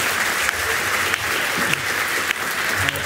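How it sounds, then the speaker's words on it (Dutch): A crowd at a national student debate competition claps for three debaters on stage, a sustained roomful of applause with a few sharper individual claps standing out, and faint voices underneath. "Dan wil ik even nog een applaus voor de drie mensen hier."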